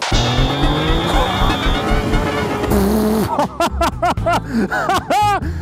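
A Yamaha XSR 900 motorcycle engine revs up and accelerates, with rapid rising and falling whines and gear changes, loud and close.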